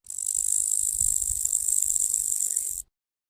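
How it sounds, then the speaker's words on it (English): Grasshopper chirping: a steady, dense high-pitched buzzing trill, loud and continuous, with faint low rumble beneath, ending abruptly into silence. "Grasshopper."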